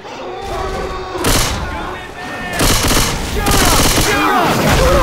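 Loud, sustained automatic gunfire from the video game Left 4 Dead 2, a dense rattling barrage with heavy booming bursts that run through almost the whole stretch, while voices talk under it.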